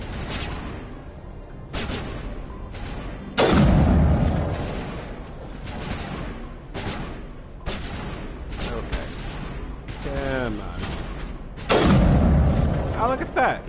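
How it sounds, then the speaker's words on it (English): Rocket launcher blasts in Mass Effect Legendary Edition land as repeated heavy booms with rumbling tails, mixed with scattered gunfire and short weapon effects, loud and close, while people talk over the combat. "And you're using a rocket launcher."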